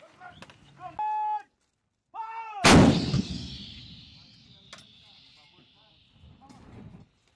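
A US Marine artillery gun fires a single loud, close round during a live-fire exercise with Philippine Marines; the sharp blast trails off into a long rumbling decay, with shouted commands and radio-like voices before and after.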